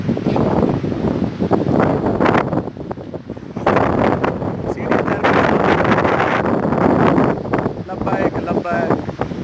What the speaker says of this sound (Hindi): हवा चल रही है बड़ी ठंडी ठंडी सी।